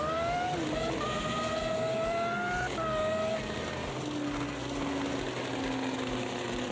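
A 2005 endurance race car engine in the Automobilista 2 racing game, rising and falling through gears with sustained loud revving and pops and bangs on overrun, heard alone without voices.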